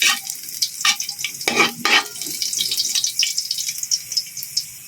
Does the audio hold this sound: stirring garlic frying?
yes